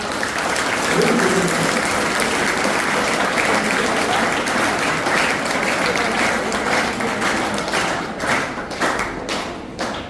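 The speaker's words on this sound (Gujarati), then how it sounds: "તો ફરી એકવાર જોરદાર તાળીઓ" Loud, dense applause from a school gathering at a farewell event, continuous clapping with thumping taps that holds for about ten seconds and thins slightly toward the end.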